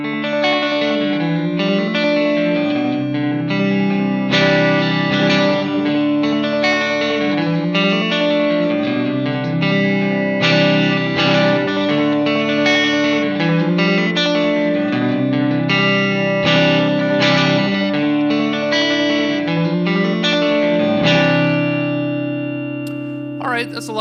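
Transmogrifying Repeater delay pedal set to full wet, with a dense, sustained wash of repeating guitar notes piling up into a thick, layered texture of echoes that plays continuously and loudly throughout.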